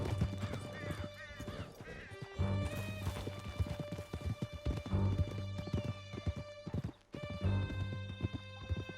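Horses gallop in the Red Dead Redemption 2 video game, hooves clip-clopping in a fast, steady rhythm with occasional whinnies under a sustained musical score.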